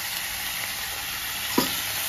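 Ground masala paste poured into a sweet potato curry sizzling in a pan, a steady hiss and crackle running throughout, with one soft thud as the masala lands.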